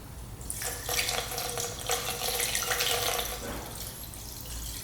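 Motor oil pours in a steady close liquid stream into the engine of a rebuilt big bore quad, a continuous gurgling trickle with no talk.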